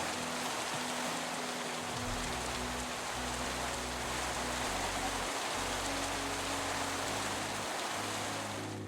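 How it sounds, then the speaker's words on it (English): Steady Minecraft rain hisses evenly throughout, a dense wash of drops with a low rumbling undertone, continuous and fairly quiet, with no voices. "And the ambient sound of rain has changed."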